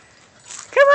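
A dog's brief high whimper that rises into a short whining yelp at the end, close by, with no one speaking.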